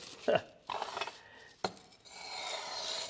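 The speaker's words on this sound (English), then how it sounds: "as you pull it back towards yourself, you just rotate it here. And that's going to sharpen that edge" A leather bag punch's cutting edge being sharpened on an abrasive surface: a few short, quiet rasping strokes up close, with brief pauses between them.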